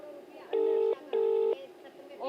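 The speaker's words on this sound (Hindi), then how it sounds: "देखिए मैं उनको कॉल कर रही हूँ।" A telephone call rings out on the line, two loud, evenly spaced tonal pulses, each about half a second long, separated by a short gap of quiet.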